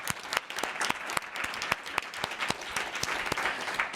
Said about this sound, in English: our session started with an applause for her